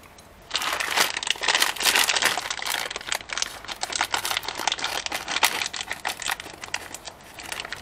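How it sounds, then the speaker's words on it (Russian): An Asian instant noodle plastic package is opened and crinkled up close, giving a loud run of sharp crackles and rustles that begins abruptly and continues in irregular bursts. "чтобы пакет открыть аккуратно"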